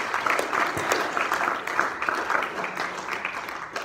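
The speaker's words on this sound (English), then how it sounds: "let's give Mr. Jeff Gamboa a round of applause" Business seminar audience applauding a speaker as he is welcomed to the stage: a steady wash of crowd clapping with faint cheers mixed in, sustained throughout.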